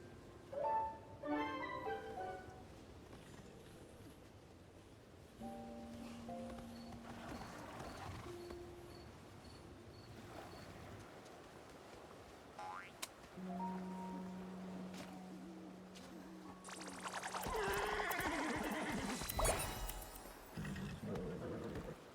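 Horses in the video game Infinity Nikki, with a steady clip-clop of hooves and game music tones, then a louder burst of rustling and whinny-like noise near the end; no clear talk.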